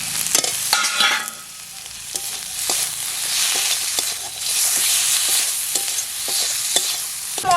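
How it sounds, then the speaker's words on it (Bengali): A spice mixture of turmeric, salt, green chilli and chopped tomato sizzles in a pan while a spatula stirs it, making repeated scraping clicks over a continuous frying hiss. "মশলাটাকে একটু ভালোভাবে কষিয়ে নেব।"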